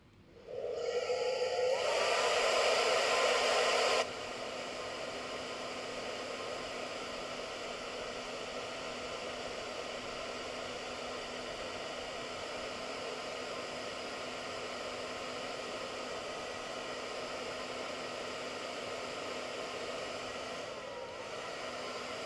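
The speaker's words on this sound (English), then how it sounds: "I'll just blow dry it again." A hair dryer blows on wet paint, starting with a louder high blast for a couple of seconds and then settling into a steady, continuous whooshing drone that runs alone until cutting off near the end.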